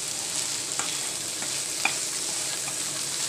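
Dried lotka shutki fish fries in an oiled pan, a steady close sizzle with a few soft stirring scrapes and one sharper clink partway through, and no talking.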